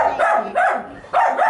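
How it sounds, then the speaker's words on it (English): A dog barks in three loud, close bursts, each a short run of yappy barks with brief pauses between them. "And the dogs."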